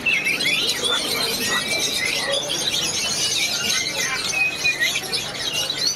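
A kutilang sutra bulbul calls at a busy bird market, giving repeated high chirps and whistles over a steady bed of crowd and market noise.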